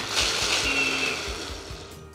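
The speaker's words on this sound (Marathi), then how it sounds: "हे मिक्सरमध्ये छान फिरवून घेऊयात" A mixer grinder grinding peanuts and chillies whirs loudly and steadily with a rough grinding hiss, running continuously for a couple of seconds.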